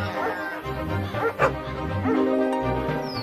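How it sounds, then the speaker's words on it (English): Shepherd's dogs barking and yipping while chasing off a wolf, several sharp barks and whimpers close by over a musical background. "The dogs chased the wolf away and saved the lamb."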